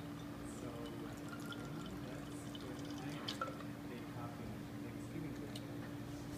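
Creme de menthe liqueur pours into a cocktail shaker in a quiet steady trickle, faint and close, with a low background hum.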